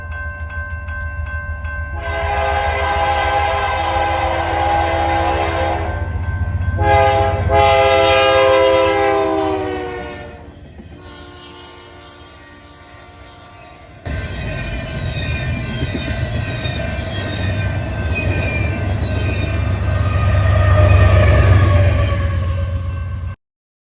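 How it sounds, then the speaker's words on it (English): A westbound intermodal freight train led by an H1-9 locomotive sounds a loud, drawn-out multi-note horn in several blasts and then rumbles past with a heavy, rising roar of engine and wheels. "45 minutes later, we catch a westbound intermodal with an H1-9 leader"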